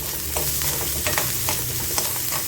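Steady crackling sizzle of spices frying in hot oil, with occasional louder pops and spatters close by, no voices.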